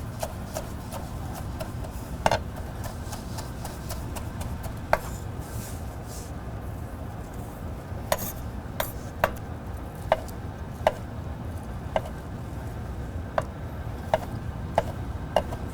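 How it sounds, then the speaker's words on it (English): Sharp, sparse knife taps strike a chopping board as charred tomato is roughly chopped for a steak condiment, isolated clicks spaced irregularly over a low steady background hum, fairly faint and close. "We're gonna put this on the chopping board and we're just gonna give it a nice rough chop"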